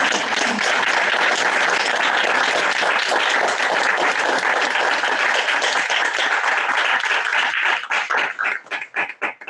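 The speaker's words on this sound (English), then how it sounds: "So shall we have a round of applause for her?" Audience at an academic conference on Indigenous studies applauding a runner-up prize winner, dense sustained clapping that thins into a few separate claps near the end.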